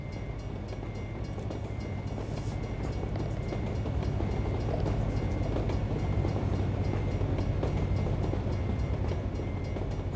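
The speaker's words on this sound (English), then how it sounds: "give this a couple minutes for it to train to pass" A train passes by in American Truck Simulator as a continuous close rumble and rattle of rail cars. The steady noise holds at an even, loud level throughout, with no voices.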